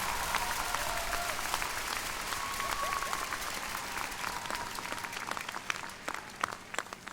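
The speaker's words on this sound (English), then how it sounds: "Let's give them a round of applause as well." Applause from a large crowd honoring the faculty at a 2019 undergraduate commencement ceremony, a dense steady wash of many hands that slowly thins toward the end, with a few louder individual claps.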